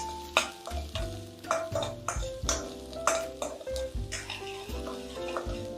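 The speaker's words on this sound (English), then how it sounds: "Stir this onion around a little bit." Chopped onions stirred in a frying pan, a steady sizzle with repeated scraping and light clinks of a utensil against the pan, close and clear with almost no talking.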